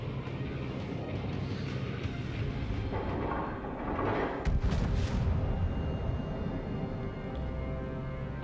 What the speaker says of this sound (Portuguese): Eu soltei alguns tiros só para fazer algum teste.